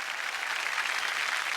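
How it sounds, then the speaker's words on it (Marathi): Audience applause at a Marathi TV game show, a steady wash of clapping hands that holds at an even level throughout, with no talk over it. "एकदा जोरदार टाळ्या त्यांच्यासाठी झालं पाहिजेत."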